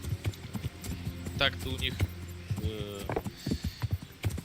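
Hooves of an armoured horse in the medieval game Kingdom Come: Deliverance, a rhythmic clip-clop of regular thuds under someone talking, with a brief whinny-like burst partway through.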